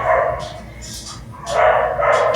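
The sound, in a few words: dog barking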